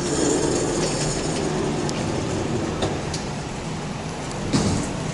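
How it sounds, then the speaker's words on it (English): A freight elevator at Hall E of the George R. Brown Convention Center in Houston, once low on oil, moves with a constant mechanical rumble, punctuated by brief squeaks and clicks. "This elevator was low on oil the last time I rode it."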